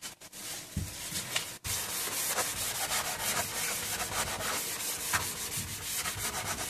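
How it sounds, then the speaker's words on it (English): A vintage Vittorio Gardellini tube radio's wooden cabinet is sanded by hand with 220 grit sandpaper over old lacquer, making close, rhythmic scratchy rubbing strokes that run almost continuously after a brief pause near the start. "the surfaces have been sanded with 220 grit sandpaper, but without stripping completely the old lacquer"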